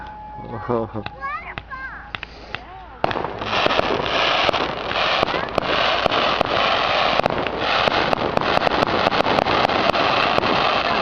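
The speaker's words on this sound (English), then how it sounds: "Really a lovely fireworks display." Fireworks display in Junction City on 15 July 2012, banging and crackling in a rapid, continuous barrage outdoors, with children chattering and shouting nearby, the pops sharp over a wash of crowd noise.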